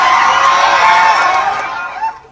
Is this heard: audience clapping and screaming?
yes